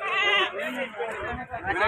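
Goats bleat at a busy livestock market, several wavering calls overlapping up close and fairly loud in the short stretch, with people talking in the background.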